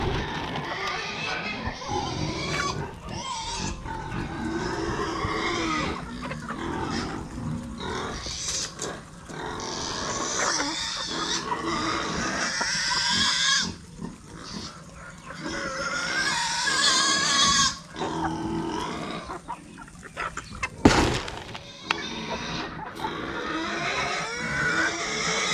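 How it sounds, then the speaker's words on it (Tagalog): Pigs squealing and grunting on a small backyard farm, a busy, continuous chorus of animal cries with bursts throughout, mixed with a person talking and feeding them. "Mga baboy umiiyak."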